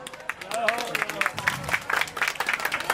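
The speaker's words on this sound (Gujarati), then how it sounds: "આપણે એકવાર જોરદાર તાળીઓથી આ મજલેશભાઈને વધાવો" A temple audience at a Ram katha gathering applauds loudly, a dense continuous clatter of many hands that builds and holds throughout.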